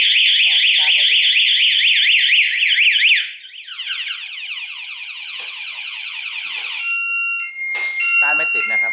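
Anti-theft alarm on a Kawasaki KSR motorcycle blares a loud warbling electronic siren up close, then switches to shifting chirps and steady tones.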